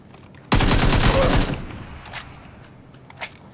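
PUBG gunfire, with a loud rapid burst of several shots that lasts about a second and then trails off into fainter distant shots and echoes, with no voices over it.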